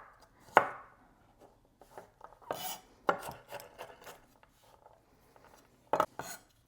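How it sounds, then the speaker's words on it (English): A knife mincing garlic cloves on a cutting board: a handful of scattered, crisp chops in small clusters with quiet gaps between them, fairly soft and close. "I'm just going to kind of chop them up just a hair bit. Kind of mince them up"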